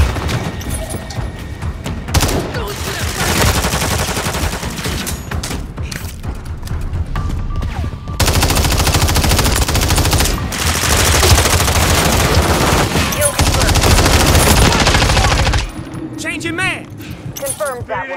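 Rapid automatic gunfire and bursts of shots in Call of Duty Modern Warfare 3 online multiplayer, loud and dense, with thuds and explosions, over game voice callouts and chatter, dropping briefly into quieter stretches.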